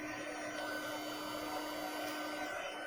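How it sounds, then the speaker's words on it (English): Electric heat tool blowing from beneath a stamped image to melt embossing powder gives a steady, loud, close hot-air whir with a constant hum and no talk. "I find that it works to use the heat tool from underneath the image rather than doing it like you would do embossing powder"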